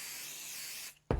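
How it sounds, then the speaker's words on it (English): Adhesive basting spray applied to bond the wrong side of quilting fabric to wadding: a steady, loud hiss for almost a second, then a brief pause and a short, sharp burst of rustling fabric handling. "And we're just going to spray base this down."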